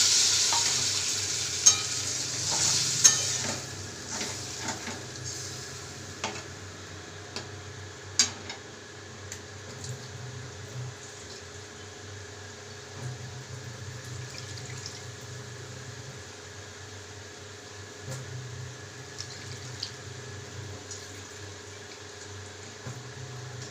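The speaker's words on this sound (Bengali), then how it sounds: "এবার আমি পরিমাণ মতো জল দিয়ে দেবো।" Water added to a pan where eggplant and spices have been frying for a mustard fish curry, giving a soft, steady sizzle and simmer with occasional sharp clinks and taps, fairly quiet throughout.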